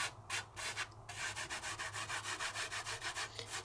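Foil color lightly rubbed over a stamped glue image from Aladine Doodler stamps: a soft, steady back-and-forth brushing, even strokes about three per second, close and quiet with no voice.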